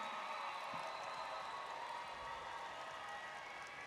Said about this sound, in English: big round of applause for their promoting class of 2024 from Mar Vista Academy